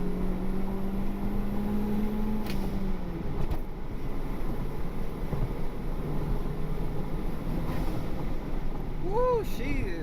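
A turbocharged Honda Civic with an R18 engine pulling hard in second gear, a steady droning engine note rising in pitch under road and wind noise, with a brief tire chirp near the end.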